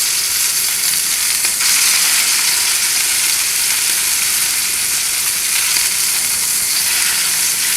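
An already-cooked sous vide pork tenderloin searing in a pan cranked to high heat, producing a loud, constant sizzle and hiss that holds steady throughout without any voices.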